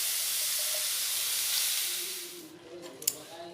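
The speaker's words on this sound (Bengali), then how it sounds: "সব ছাতুগুলো আমার তেলে ছাড়া হয়ে গেছে।" Mushrooms frying in hot oil for a potato and mushroom curry give a steady, close sizzling hiss that fades after a couple of seconds, followed by a few small clinks.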